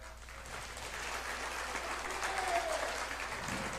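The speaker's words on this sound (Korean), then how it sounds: "박수 한번 더 칩시다" A crowd at a speech by a Marine Corps general claps together in a soft, distant, steady wash of applause that holds at an even level for the whole stretch.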